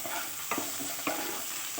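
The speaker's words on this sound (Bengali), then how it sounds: "পেঁয়াজ কুচি আর একটু রসুন কুচি দিয়ে ভেজে নেব।" Chopped onion and garlic fry in a pan for fried rice, giving a continuous close sizzle with two or three soft stirring clicks and scrapes.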